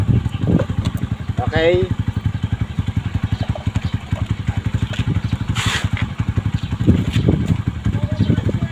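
Small water pump engine split open and running, a close rapid chugging idle with a clattery, uneven beat throughout, while someone talks over it.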